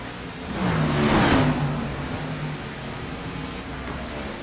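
Simulated NASCAR stock cars racing in the iRacing game at Road America, a pack of engines droning past with a rising and then falling pitch sweep, fairly loud, followed by a steady background roar, with no talking.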